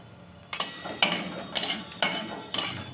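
Whole cumin frying in a pan for a masoor dal khichuri tempering is stirred with a utensil, making five close, regular clinking scrapes about every half second over a faint background, with no speech.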